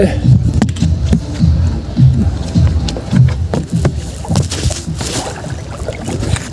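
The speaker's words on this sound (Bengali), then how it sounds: "এখন একটু নৌকা চালাবো" A boat rowed on the Karatoya river, its steady strokes churning and splashing the water close by in a regular rhythm, with voices heard now and then.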